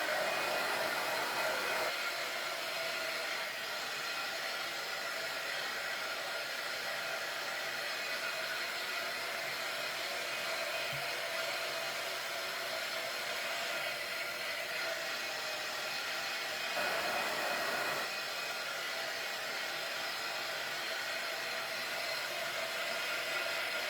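A hair dryer runs continuously in a home, a steady loud whooshing blow of air with a slight shift in tone partway through and no speech.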